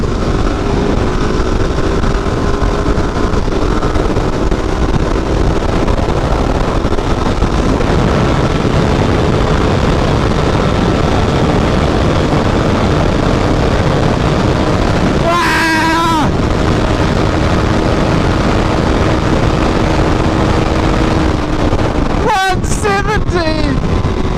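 A single-cylinder 400cc motorcycle rides along, its engine droning steadily under heavy wind rush throughout, with brief bursts of louder noise partway through and near the end.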